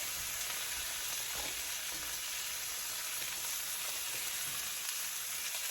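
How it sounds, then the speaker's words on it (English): Butter sizzles in a hot pan at home, a continuous soft crackling hiss with faint stirring scrapes, fairly quiet and steady without speech. "Now, we're gonna throw some butter in now."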